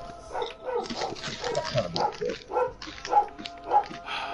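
A dog barking a few times in a room, short muffled barks spaced apart and mixed with people talking and laughing nearby.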